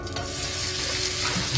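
Butter sizzles and fries in a hot pan as it is stirred, a steady close crackle holding at an even level throughout with no talking.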